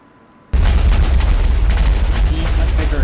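A modded explosive detonating in a video game: after a quiet moment, an abrupt, very loud boom breaks out into a sustained deep roaring rumble that holds strong to the end.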